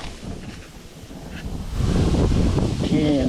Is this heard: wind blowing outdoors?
yes